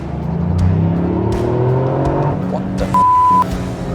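A Toyota Yaris GR engine pulls hard under acceleration, its pitch climbing steadily for a couple of seconds before easing off. A short steady beep tone cuts in near the end.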